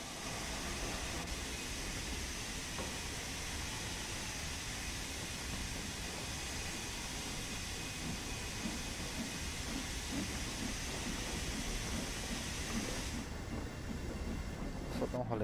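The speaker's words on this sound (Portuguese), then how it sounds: "já aprendi a andar com essa locomotiva" A steam locomotive runs in Train Sim World 2's Spirit of Steam route out of Liverpool Lime Street, giving a continuous loud rumble and hiss that holds steady throughout.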